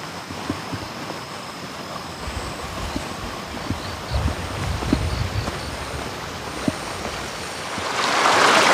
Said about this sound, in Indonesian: Kita melewati sungai berikutnya, yaitu sungai kedua, sungai Selirangan.